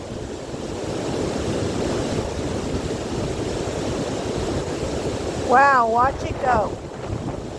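Strong wind roars steadily across the microphone beside a Yosemite waterfall in granite country, a constant broadband rush throughout, with a person briefly exclaiming near the end.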